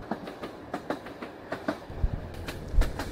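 Train interior ride on rails, with a steady rhythmic clickety-clack of wheels over rail joints beneath a low rumble and a few heavier thumps, close and moderately loud, with no talking.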